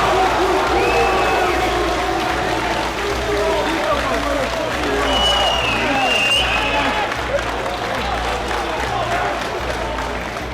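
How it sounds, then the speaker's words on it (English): A fight club crowd roars and applauds after a bout, a thick, continuous wall of cheering voices and clapping with scattered shouts and whistles, loud and sustained. "the crowd erupts into an oceanic roar"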